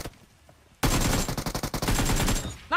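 M4 rifle gunfire in a video game, erupting after a quiet moment into a loud, rapid burst of close shots in a steady automatic rhythm, with no talk over it.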